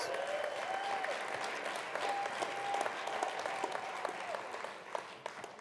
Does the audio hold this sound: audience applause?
yes